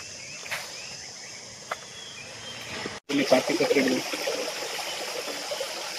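River water rushes steadily beneath a bridge, a soft broadband flow that swells louder and rougher midway through, with people talking over it.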